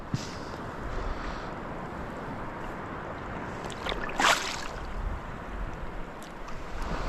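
Waves washing in while fishing for bass from the shore, a steady broadband rush of water and wind with one brief louder splash near the middle, no talk.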